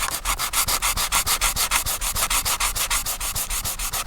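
Hand sanding down through the paint on a Ford Focus ST bonnet, fast rhythmic rasping strokes about eight per second, close and loud with no talk.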